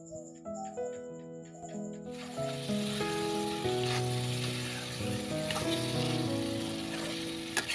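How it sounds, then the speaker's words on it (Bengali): Chicken pieces stir-fried with spices in a pan: a loud, continuous hissing sizzle that bursts in after a short quiet stretch and holds steady, under prominent background music. "মাংসগুলো দিয়ে কিছুক্ষণ নাড়াচাড়া করে কষিয়ে নেব"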